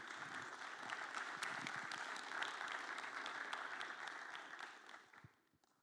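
Audience applause after a conference presentation on Ethereum staking, steady clapping from a roomful of people heard at a distance, tapering off at the end.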